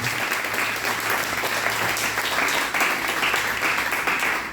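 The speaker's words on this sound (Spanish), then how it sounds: "Dale un aplauso al Señor con todo tu corazón" Church congregation applauding in worship, a sustained, even wash of many hands clapping at once, loud and continuous from start to finish.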